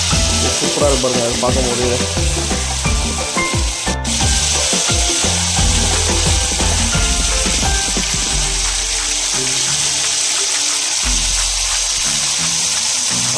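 Chicken 65 pieces dropped one by one into hot oil, a loud continuous sizzle and bubbling frying sound, with brief talk over it.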